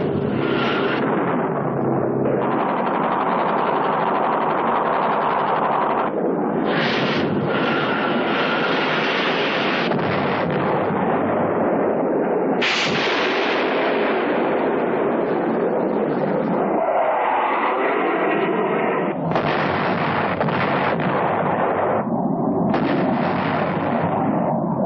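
Heavy explosions and rumbling blasts from airstrikes in Vietnam War footage, loud continuous booming that surges and fades in waves over about 25 seconds, with no talk.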